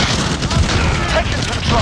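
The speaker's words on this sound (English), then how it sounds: "Throwing grenade." Grenade explosion in a Call of Duty: Modern Warfare team deathmatch: a brief, loud, dense burst of booming blast noise over continuous battle clamor, with a voice faintly present.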